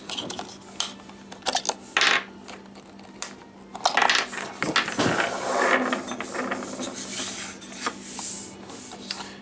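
AA batteries are pulled out of a device's battery compartment, producing a series of sharp plastic and metal clicks, rattles and clatters at close range, irregular and scattered over several seconds.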